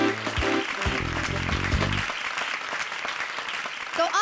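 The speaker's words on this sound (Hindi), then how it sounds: "एक बार आज हमारे चारों जजेस के लिए जोरदार तालियां" A studio audience on the Comedy Circus show applauds the four judges. The clapping is loud and sustained, with a short burst of music playing over the first half before the applause continues alone.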